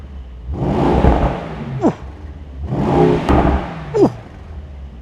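A Mercedes-AMG GT engine after a cold start blips through two sharp revs, each rising and then falling back, loud and close, with a brief pop as it drops to idle.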